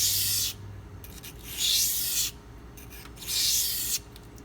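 A Spyderco Endura 4 Wharncliffe knife is drawn across Pride Abrasives sharpening stones in three separate rasping strokes, each about a second long, with short quiet gaps between them, close and clear with no talking.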